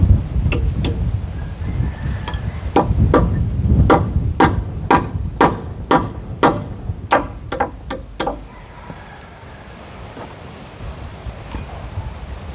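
Nails are hammered in with about a dozen sharp, loud blows in a steady rhythm, then the strikes stop and light wind noise remains.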